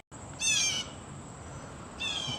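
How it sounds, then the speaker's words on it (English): Birds calling high up outdoors, two short bursts of bright chirping separated by a pause, moderately distant over a steady background hum and hiss. "A lot of birds up there."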